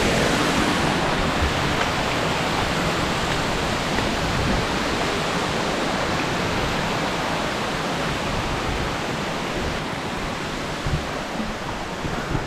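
Batlag Falls pours in a dense, unbroken roar of rushing water, loud and close, with no voices over the steady wash.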